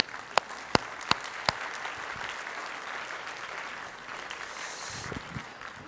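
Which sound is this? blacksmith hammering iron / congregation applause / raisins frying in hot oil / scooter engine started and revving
congregation applause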